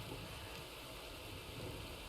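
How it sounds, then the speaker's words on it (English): Rain falls in a steady, dense broadband hiss during a storm, even and unbroken throughout with no distinct drops or voices standing out. "Sorry, the rain's a bit noisy."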